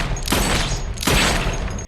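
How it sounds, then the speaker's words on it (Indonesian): Two heavy, loud blasts sound a second apart as a pistol is fired in a film, each a booming burst that lingers before cutting off abruptly. "Bob dilapisi kain dan menembak atasan Bob sampai mati."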